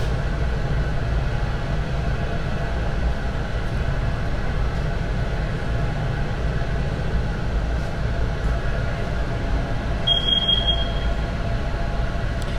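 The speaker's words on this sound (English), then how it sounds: "I don't know what that beeping in the background is. It's some kind of alarm system" A brief burst of rapid, high electronic alarm beeps rises near the end, over a constant loud industrial roar in a glassblowing studio.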